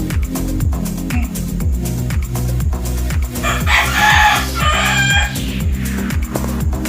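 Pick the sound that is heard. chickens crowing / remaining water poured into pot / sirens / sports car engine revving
chickens crowing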